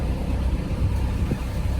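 A 1968 custom-built 43-foot boat's engine cranks and catches, settling into a low, steady rumble that stays close and even throughout, with no voices over it.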